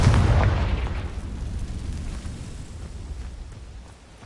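A Confringo spell explosion in Hogwarts Legacy, a loud close boom followed by a dense rumbling roar that slowly decays over several seconds.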